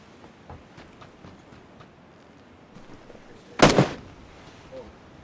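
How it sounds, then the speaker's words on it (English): A single loud gunshot from the player's weapon in PUBG, a sharp crack with a short tail, standing out over a quiet background of faint game noise with no speech. "I assure you, I did not want to have to fire my weapon"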